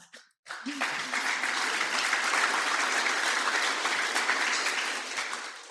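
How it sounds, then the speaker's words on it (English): At a San Marcos community address, a crowd bursts into steady applause after a brief pause, and the dense clapping holds at an even level for several seconds before easing slightly at the end. "that deserves an applause"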